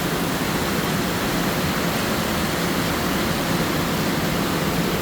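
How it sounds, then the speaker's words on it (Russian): A waterfall in the Svir gorge, water pouring off a cliff, makes a steady, broad rushing roar that stays constant and close throughout, with no other sounds. "Со скалы прям вода идет."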